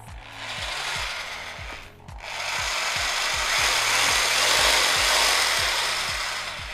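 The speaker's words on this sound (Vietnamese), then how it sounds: "đây là chức năng khoan thường." An 850W rotary hammer drill runs in plain drilling mode, giving a steady loud motor whine with a rising pitch and a brief dip in speed partway through, heard up close and without speech.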